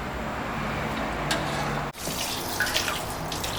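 Running tap water pours steadily over fish maw as it is rinsed in a sink and squeezed to push out the oil, a continuous close splashing with a brief break midway and no talk.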